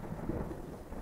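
Thunder rolls and rumbles through a stormy scene in a horror video game, a low, steady roar with faint rain texture and no voices.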